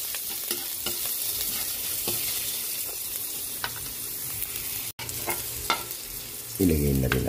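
Garlic sautéing in a little oil for pork menudo, a steady close sizzle broken by scraping stirs, with a brief louder burst of frying near the end and no talk.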